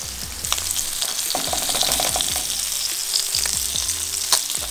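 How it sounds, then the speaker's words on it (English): Barracuda and zucchini seasoned with pepper and garlic powder sizzle on a Camp Chef barbecue grill box, a close, continuous frying hiss with occasional pops and clicks. "We're gonna go on the barbecue grill box, Camp Chef barbecue grill box."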